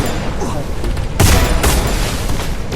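A grenade detonates in a video game: a sudden loud, close boom bursts out about a second in, then trails into crackling gunfire-like noise over a dense, busy game-audio background.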